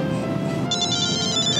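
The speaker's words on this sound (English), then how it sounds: "Hello, Polly's phone." A telephone starts ringing partway through, its bright trilling rings sounding over a dense, steady background.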